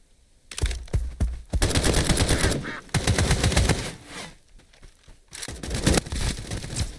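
Automatic machine gun fire in the shooter game Escape from Duckov, with RPD and RPK light machine guns; loud rapid bursts come in several long volleys broken by short pauses, with crackling shots from both sides in a firefight.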